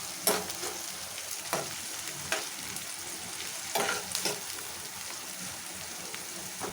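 Onions frying in oil, cooked until golden red for a ridge gourd curry, give a steady sizzle broken by several sharp scraping stirs of a spatula in the pan. No one speaks.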